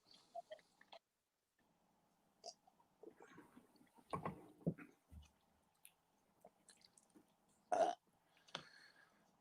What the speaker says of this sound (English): Did you just burp live on camera?